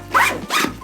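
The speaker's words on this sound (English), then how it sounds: "if you're ripping this open in a hurry, you're still gonna have the zipper sound" Zipper on an Alpaka Gear Metro backpack yanked open fast in two quick rasping pulls, close and fairly loud, with no talking.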